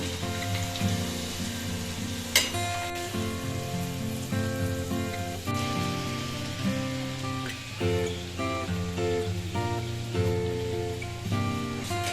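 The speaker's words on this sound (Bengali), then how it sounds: "এই যে মা এখন রাতের লুচি ভাজছে।" Luchi (puri) frying in hot oil at home for dinner, a dense continuous crackling sizzle with scattered sharper pops, steady and close throughout, with no talk.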